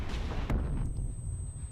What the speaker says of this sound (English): an explosion made it very audio